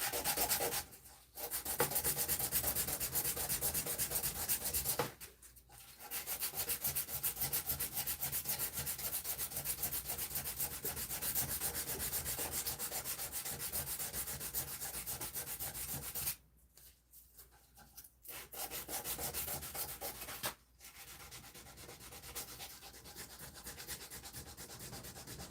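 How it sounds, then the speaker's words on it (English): Final sanding of curved wooden knife scales, including maple, a steady close scratchy rubbing that runs in long strokes, broken by a few brief pauses and ending a little quieter. "Now I'm ready for the final sanding."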